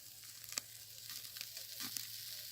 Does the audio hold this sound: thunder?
no